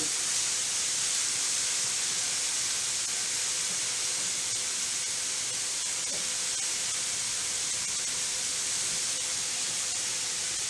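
Corn steaming on a grill alongside other vegetables, giving a steady, loud, unbroken hiss with no pauses or talking throughout.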